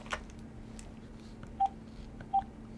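Two short, clean keypad beeps from a VTech CS6529-4B cordless phone handset, spaced under a second apart over faint room hum, with a soft click just before.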